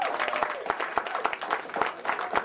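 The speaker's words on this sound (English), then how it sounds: "Let's give that brother a round of applause." An audience gives a round of applause at a talk, scattered distinct claps forming an uneven rhythm over a murmur of voices.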